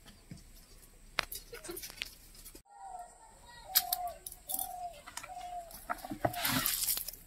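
Two free-roaming domestic chickens cluck in a rural yard, with a run of short repeated clucks in the middle, fairly close, among rustling and scraping sounds.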